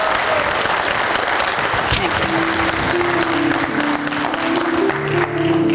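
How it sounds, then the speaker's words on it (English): Audience applause for elected officials at a community show, loud, sustained clapping from a crowd throughout, with a voice talking over it in the second half. "Another round of applause, well deserved for our elected officials."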